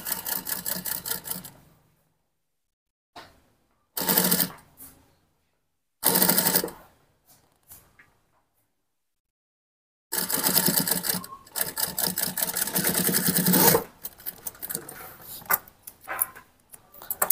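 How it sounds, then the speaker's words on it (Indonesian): A sewing machine stitches the collar onto a men's koko shirt, with fast, even mechanical chatter in several bursts: short runs early on, then a longer continuous stretch, separated by silent pauses while the fabric is repositioned. "Oke, langsung saja kita jahit teman-teman."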